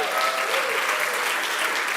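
Church congregation applauds and cheers during a Sunday service, a dense, steady burst of clapping filling the room without any talking.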